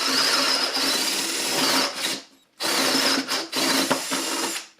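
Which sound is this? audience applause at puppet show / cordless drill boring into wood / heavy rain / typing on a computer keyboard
cordless drill boring into wood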